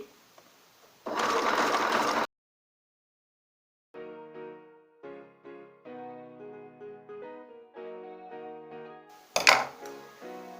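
A sewing machine runs in two short, loud bursts while stitching a zigzag seam on an oversized garment being taken in, with a stretch of tonal music playing between the bursts.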